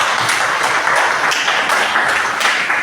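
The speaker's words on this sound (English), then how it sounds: "I think we should give them a big round of applause." An audience gives a loud, close round of applause at a gathering, a dense and continuous wash of clapping with no voices over it.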